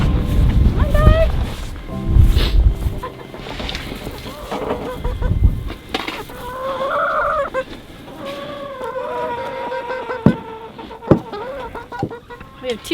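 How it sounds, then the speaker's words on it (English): Chickens clucking and calling in a snowy yard, several close hen vocalizations rising and falling over gusty wind noise and outdoor rumble, with a person talking at times. "We have 2 brave chickens that are going to come out here and eat."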